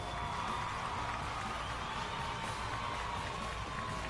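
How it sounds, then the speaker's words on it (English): Studio audience applause opens a live TV talk show in downtown Detroit, heard as a steady, fairly faint wash of clapping with light cheering and no voices over it. "It's amazing how that applause sounds the exact same every day."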